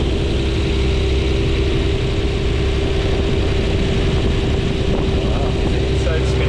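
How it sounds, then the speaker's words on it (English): A Lexus SC300 engine runs steadily after starting on the first try, with the alternator disconnected, giving a constant low idle hum that fills the whole stretch at close range. "Now it starts out first try."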